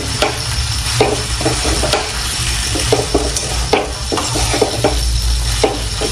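Okra sautéing in a pan with steady sizzling and a spatula scraping and stirring in repeated strokes, close and alone with no voices.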